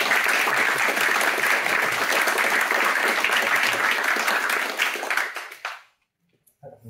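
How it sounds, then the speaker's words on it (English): An audience at a retro gaming event in Kenilworth gives a round of applause, steady full clapping for about five seconds before it tapers off and stops, leaving near silence with a few small noises. "I mean, that deserves a round of applause."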